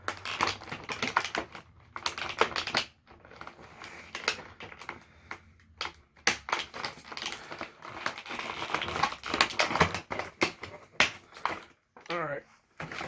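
Scissors or a blade cutting open plastic packaging around a NECA TMNT 2 Super Shredder action figure, a close, irregular series of crisp snips, crinkles and plastic clicks with short pauses, under intermittent talk.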